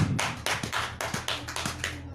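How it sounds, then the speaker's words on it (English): Church congregation applauding, a close, sharp patter of hand claps in uneven bursts with no talk over it. "A round of applause for Jesus"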